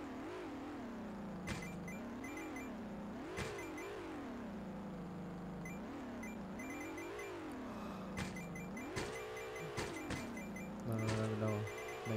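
A fast car's engine in Hill Climb Racing revs up and down in repeated rising and falling whines, steady and moderately loud, with small electronic game blips scattered throughout.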